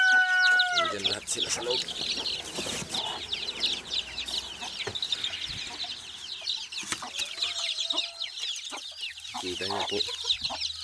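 Hens and chicks in a coop, with steady high peeping from many chicks and occasional clucks and a short crow, heard near and constant while someone speaks briefly.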